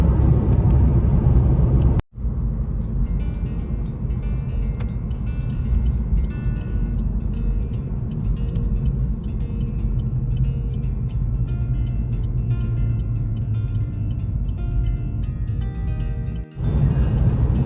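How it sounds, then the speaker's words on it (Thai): Steady engine rumble and road noise inside a moving car on a quiet Sunday road in the Netherlands countryside, constant and close, with a brief dropout near the start and another near the end. "อยู่ในรถโชเฟอร์กำลังขับรถอยู่นู่นค่ะ"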